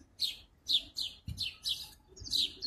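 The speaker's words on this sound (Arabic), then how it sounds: "ونشوف العصافير فوق، هي طبعا مش باينة هنا، تقريبا بتاكل حاجة من الزهور" Small birds chirping up in a flowering red bottlebrush tree (Callistemon), a series of about six bright, short high-pitched chirps spaced irregularly, fairly close and clear over faint background noise.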